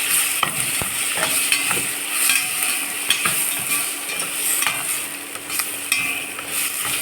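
Fried onions and tomatoes are stirred into a pan for paneer tikka dum biryani. A steady sizzle sits under frequent close scraping and clinking of a spoon against the pan, and no voices are heard.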